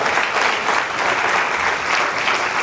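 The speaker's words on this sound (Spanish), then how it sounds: "Por eso démosle un aplauso fuerte al Señor" A church congregation at a Spanish-language faith class gives loud, sustained applause. The clapping is dense and steady, close and full throughout, with no clear voice over it.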